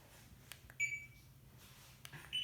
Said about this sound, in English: that beep is 78 decibels